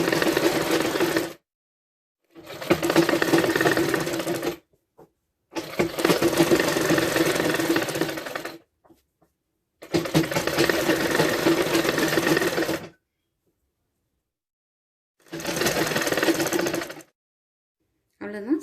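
A sewing machine stitches a lining around a back neckline in five separate bursts of steady whirring, with short silent pauses between runs and no talk.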